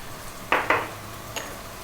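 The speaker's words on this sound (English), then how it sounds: "We're now going to add the fresh tomato" Fresh tomato and chili drop into a hot pan of Indian fish coconut curry, giving two quick bright bursts of sizzle and a soft clatter close by, then a faint later clink over a steady low kitchen background.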